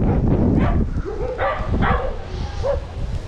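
Several dogs bark and yelp in a scattered chorus at a distance at a campsite in Narlı village, Erdek, Turkey, with wind noise rumbling throughout.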